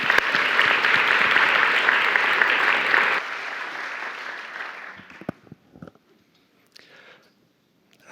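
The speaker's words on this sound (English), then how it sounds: "Give him a round of applause." A church seminar audience applauds loudly and steadily for about three seconds, then the clapping thins and fades out into scattered claps and near silence.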